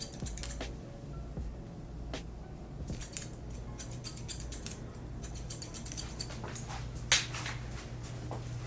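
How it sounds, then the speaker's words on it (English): Thinning shears snip steadily through a man's hair at a barbershop, producing quick, light metallic clicks in irregular bursts, close to the mic and fairly quiet over a low background hum. "this is where our thinning shears are gonna come in and really smooth all of this out."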